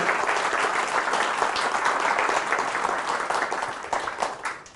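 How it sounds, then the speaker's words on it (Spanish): Congregation applause during a Catholic church service in Spanish, honouring the Virgin Mary: dense, sustained clapping from a full crowd that holds steady and then starts to fade at the end. "Fuertes aplausos a nuestra Madre Santa, la Virgen María."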